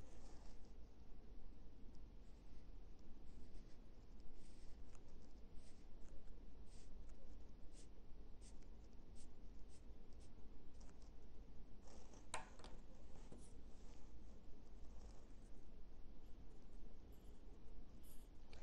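A pen scratches across paper while a graph of a normal distribution is drawn by hand during a statistics lesson, soft continuous scribbling with small taps, quiet and close.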